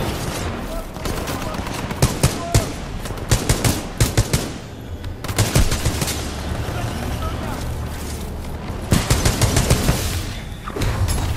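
Rapid automatic gunfire from the video game Titanfall 2, loud bursts with brief pauses, continuing throughout alongside booming effects and game sounds, with a player talking over the shooting.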